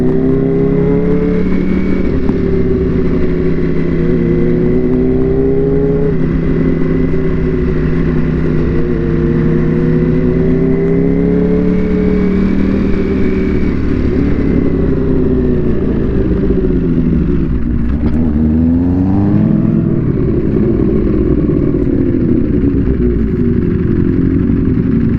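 Two loud motorcycle engines, a Ducati Panigale V4S and a Stage 3 Kawasaki Ninja H2, roar close up on a sunset ride, surging and easing with repeated rises in pitch as the throttle is worked.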